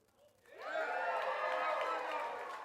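Crowd at a Ride In Sunday event breaks into loud cheering and whooping, rising quickly and holding as a sustained roar of many voices.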